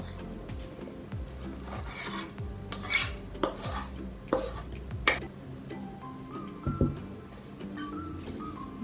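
A spoon scrapes and clinks against a bowl while yogurt cake batter is cleared from the bottom, giving a string of short, close, irregular knocks and scrapes with quiet gaps between them.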